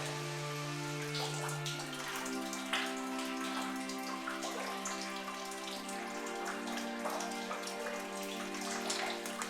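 A small waterfall spills down near old slate quarry and mine workings at Blaenau Ffestiniog, a faint, steady patter and trickle of falling water heard from a distance with a low, constant tonal hum underneath.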